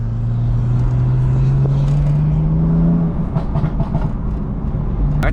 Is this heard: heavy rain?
no